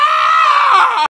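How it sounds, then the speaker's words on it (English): A single loud, sustained scream lasting about a second, high and strained, then cutting off abruptly into silence. "That scream sounded like it came from outside the window."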